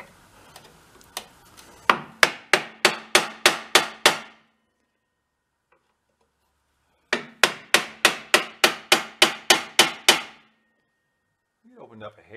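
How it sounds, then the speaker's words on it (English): A hammer taps sharply on an antique sled, likely at its stuck guide pins, in two quick runs of about eight or nine evenly spaced blows separated by a pause. The strikes are close and crisp, followed by a faint sound at the end. "Let's go pick at it a little bit with a hammer."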